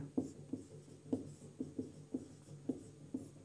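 Someone writes notes during a physics lesson on magnetism, a pen or chalk tapping and scratching in short strokes about every half second, close and soft with no speech.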